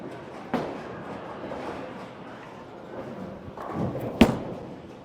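A Motiv Max Thrill Hybrid bowling ball lands with a thud, then rolls down the lane in a low, steady rumble that ends in a sharp crash of pins striking.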